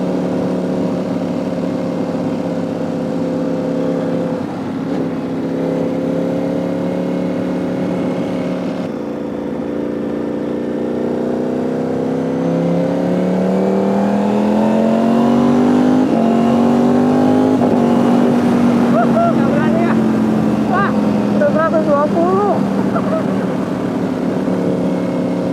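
Superbike motorcycle accelerating at high speed on the road, its engine pitch climbing steadily through the gears, loud and continuous with wind rush, rising to a sharper whine near the end.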